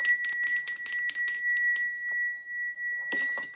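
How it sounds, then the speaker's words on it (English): A large hand bell rings in a rapid run of bright, loud clangs. A long ringing tone fades out, then a second short burst of ringing follows near the end. "That's the big bell."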